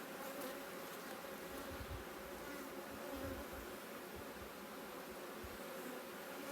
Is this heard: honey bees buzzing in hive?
yes